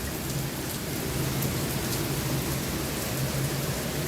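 Heavy rain pours steadily at an outdoor resort with dense, unbroken hiss, while a low rumble of thunder underlies the downpour throughout.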